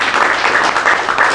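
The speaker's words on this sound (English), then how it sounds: "Give our sponsors a round of applause." Dense, steady applause from a startup demo day audience honoring the sponsors, a continuous wash of many hands clapping with no pauses across the short stretch.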